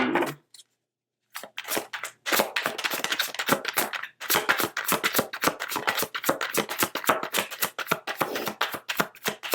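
Tarot cards are shuffled in quick, crisp riffles and taps, close up, with a short pause before a long, steady run of flicking.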